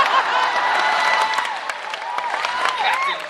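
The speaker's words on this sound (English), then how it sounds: "Smattering of applause." A convention panel audience at Dragon*Con gives a smattering of applause, steady mixed clapping with some crowd murmur and a voice or two over it.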